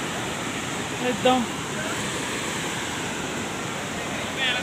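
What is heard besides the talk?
loud rushing water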